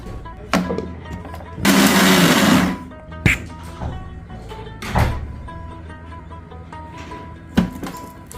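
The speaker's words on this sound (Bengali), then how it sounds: "লাস্টের দিকে একটু পেঁয়াজ মিক্স করে যা দুই সেকেন্ডের জন্য ব্ল্যান্ডার চালু করব" Electric blender whirs for about a second, briefly mixing mashed peanuts with onion, a short loud burst amid clinks and knocks of kitchen handling.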